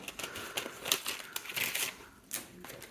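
Plastic packaging of craft embellishments being torn open, a close, busy run of crinkling and crackling bursts with brief pauses, no talking.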